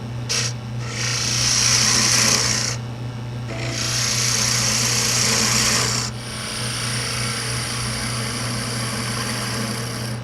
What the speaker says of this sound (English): Now I'll use the spindle gouge to shape it.